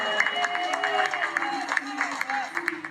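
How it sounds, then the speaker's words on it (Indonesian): Applause and crowd noise at an eighth-anniversary community gathering, with scattered claps rising under ongoing talk and voices, moderately loud throughout the short stretch. "Baiklah teman-teman, kita berikan tepuk tangan buat Kak Cepi."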